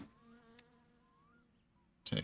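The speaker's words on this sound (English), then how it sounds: "The wasp should be inactive at this time of the day, even though it's still slightly visible." A wasp buzzing in the My Summer Car video game, a faint steady drone with wavering pitch that fades in and out, then a brief louder burst near the end.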